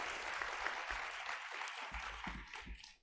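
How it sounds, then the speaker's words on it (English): Audience at an epilepsy and wellness conference applauds a pair of doctors, a steady dense wash of many hands clapping that carries on for about three seconds before tapering off at the end. "So let's give them another round of applause."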